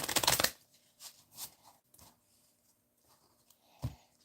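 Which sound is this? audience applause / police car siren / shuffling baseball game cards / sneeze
shuffling baseball game cards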